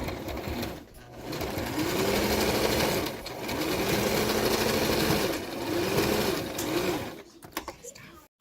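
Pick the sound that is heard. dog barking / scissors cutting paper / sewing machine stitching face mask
sewing machine stitching face mask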